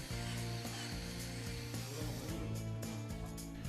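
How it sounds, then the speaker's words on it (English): A drill whines continuously up close, its pitch dipping and recovering as the bit is moved side to side to widen a hole while installing outdoor decking. "This is achieved by moving the drill bit inside the hole from side to side."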